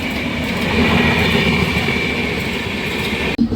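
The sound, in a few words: passing train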